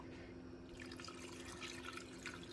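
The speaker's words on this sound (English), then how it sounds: "Now I'm just going to fill it up with water." Tap water runs steadily into a stock pot in a home kitchen, a continuous close splashing fill with a faint low hum underneath, no talking.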